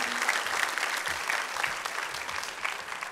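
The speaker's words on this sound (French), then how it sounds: "on peut largement les applaudir" Audience applause follows a talk on workplace quality of life at an accounting-firm conference, a steady, fairly close wash of clapping holding an even level for the whole stretch.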